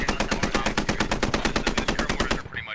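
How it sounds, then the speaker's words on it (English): Sustained machine gun fire in the Squad video game, a rapid unbroken burst of loud close shots lasting over two seconds before cutting off. "Good MG, good MG."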